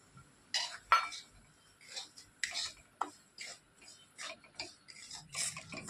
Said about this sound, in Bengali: এই ঘিয়ের মধ্যে আমি সুজিটা একটু হালকা করে ভেজে নেবো